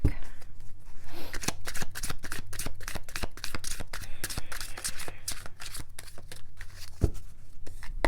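A tarot card deck being shuffled close up, a long run of rapid crisp riffling flutters and slaps continuing steadily, with a sharper knock near the end and no voices.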